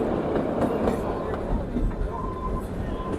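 Kalka–Shimla toy train rolling along its narrow mountain track just out of a tunnel, a close, continuous rumble with light clattering wheels and voices mixed in.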